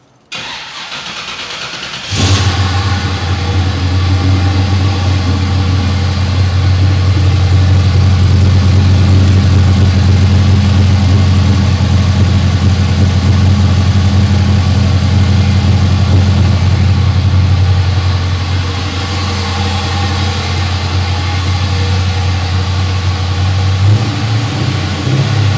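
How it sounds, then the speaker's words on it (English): After a moment of quiet, the LS-swapped engine of a 1969 Chevelle SS clone cranks and catches, then settles into a deep, throaty, steady idle that rumbles on close by with slight variations. "I'll fire it up so AJ can, well, I'll have to walk around back"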